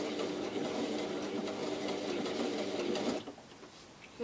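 A sewing machine runs steadily for about three seconds while sewing a lock stitch on fabric for a hair scrunchie, then stops abruptly, leaving quiet room tone.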